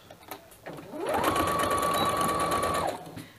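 Sewing machine stitching piping with the needle set fully to the left, a steady close mechanical whir that runs for about two seconds between quieter handling sounds.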